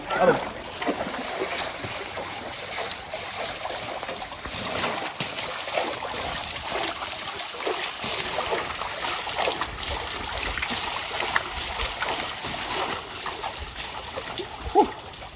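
Water splashes and trickles as an ox is scrubbed and bathed in a rain-swollen farm stream, irregular splashes and pours throughout while people talk over the scene.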